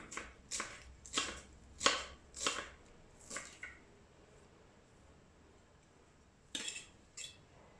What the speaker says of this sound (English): And you chop the rest thinly.